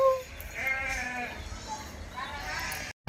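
A village sheep bleats in a few drawn-out calls close by over a noisy outdoor background.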